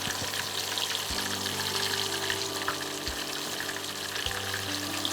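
Aar fish fries in hot oil with a steady, dense sizzle and crackle, close and continuous, over a low background hum.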